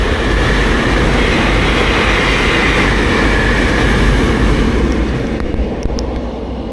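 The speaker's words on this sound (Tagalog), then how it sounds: "May dadaan pang train." A train rolls loudly past at a station, a sustained close rumble and clatter of wagons on the rails that continues throughout and eases slightly toward the end.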